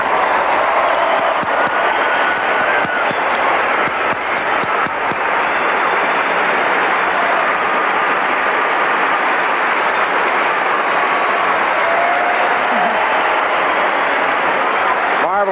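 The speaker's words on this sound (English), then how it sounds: "Marvelous hand for her from this Pauley Pavilion crowd" Pauley Pavilion crowd at the 1984 Olympics women's gymnastics all-around applauding a Romanian gymnast, a loud sustained wash of clapping and cheering filling the arena, with a voice announcing over it.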